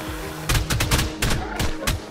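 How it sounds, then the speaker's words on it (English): Rapid gunshots in a video game, several sharp cracks in quick succession over about two seconds, loud and close. "I think I just got sniped."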